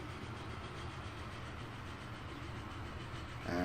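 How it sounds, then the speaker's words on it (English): A cross country train passes in the video game Transport Fever 2, heard as a steady, close, loud rolling rumble with a faint rhythmic rattle that swells slightly at the end. "Cross country train right there."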